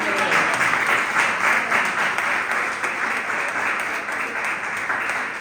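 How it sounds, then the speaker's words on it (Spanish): A church congregation gives a visitor named Rebeca loud, sustained applause, a dense wash of many hands clapping together that stays strong and full for the whole stretch. "Dale un fuerte aplauso."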